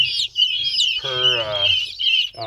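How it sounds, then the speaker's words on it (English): Loud, close chorus of high-pitched guinea fowl chick peeps with a buzzy harmonic call in the middle, several birds calling over each other. "I know you guys are getting really loud. I think it's you guineas."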